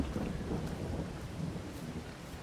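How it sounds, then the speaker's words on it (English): Heavy rain pours down steadily with a low rumble of thunder in the Farming Simulator 22 game, a dense, constant wash of sound with no talking. "We have to get ourselves in out of the rain."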